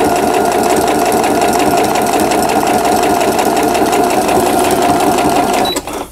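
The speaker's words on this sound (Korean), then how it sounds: "직선 바느질 박음질을 했고요." A Riccar sewing machine sewing a straight stitch gives a steady, loud, fast mechanical whir and clatter for about six seconds, then stops abruptly. No one speaks.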